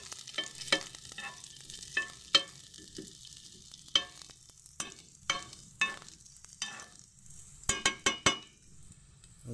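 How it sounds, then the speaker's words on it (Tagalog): Garlic dropped into hot cooking oil for Filipino adobong kohol (snail adobo), sizzling steadily while a utensil stirs and clinks against the pan in repeated sharp strokes, close by with no talking. "Ng mantika, lagay natin ang bawang."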